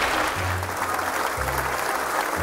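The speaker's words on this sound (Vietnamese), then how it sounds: "Mọi người hãy dành những tràng vỗ tay để cho họ đỡ lo" Dense studio audience applause at a Vietnamese TV comedy game show, steady and loud throughout, with low music tones sounding beneath the clapping.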